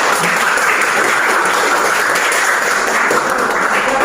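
Dense, steady applause from a crowd at a teacher training session, loud and continuous throughout without pause.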